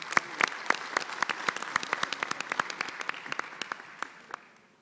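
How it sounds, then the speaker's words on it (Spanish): Scattered applause from a modest audience at a national language-revitalization event, distinct individual claps fairly close, thinning out and fading over a few seconds. "Un aplauso, por favor."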